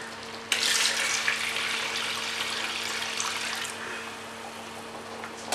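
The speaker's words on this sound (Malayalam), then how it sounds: "പകുതി തേങ്ങാപ്പാൽ ഞാൻ ഇതിനകത്തേക്ക് ഒഴിച്ചിട്ടുണ്ട്" Coconut milk pours steadily into a pan of jaggery syrup and ada for ada pradhaman, starting abruptly as a continuous splashing, hissing stream that holds loud and even for several seconds, then thins slightly near the end.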